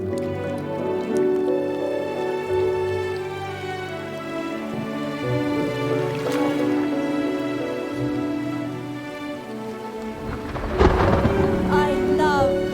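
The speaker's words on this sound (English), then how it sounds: "I love thunderstorms." An animated thunderstorm: steady rain patters under rolling thunder, with a sharp, loud crack arriving near the end and a tonal backing beneath.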